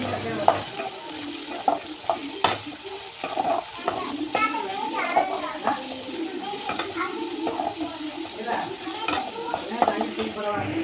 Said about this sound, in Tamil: கருவேப்பிலை பொரியவும் அந்த நறுக்கி வச்சுருக்கிற வெங்காயத்தையும் உள்ளே சேர்த்து நல்லா வதக்க